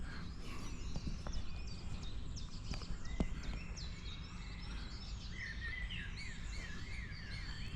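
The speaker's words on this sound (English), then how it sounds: "Birds are singing." Birdsong in a countryside wood near Stuttgart just after rain: several chirps and short warbling phrases scattered across the clip, moderately distant over a steady low outdoor rumble, with no talking.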